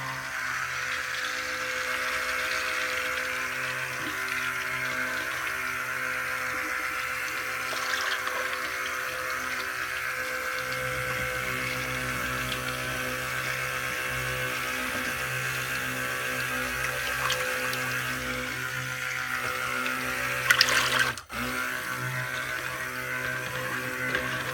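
A stick blender whirs continuously in a batch of soap, a steady, fairly loud churning drone that runs without pause until a brief clunk near the end.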